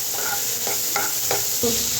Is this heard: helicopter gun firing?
no